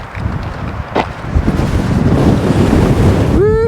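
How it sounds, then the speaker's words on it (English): Gusty outdoor wind buffets the microphone in a loud, continuous roar that swells and eases, with a brief rising whistle-like tone near the end. "Gusty, very gusty today."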